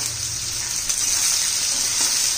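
Sliced onions sauté with spices in a pan for a dhaba-style bhuna chicken masala, a steady, close hiss of frying that runs evenly throughout with no talking.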